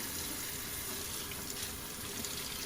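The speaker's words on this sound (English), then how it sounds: "So now you want to rinse all the parts off, all the tools." Tap water rinses rusty tool parts in a sink, a faint, steady hiss of running water with no talk.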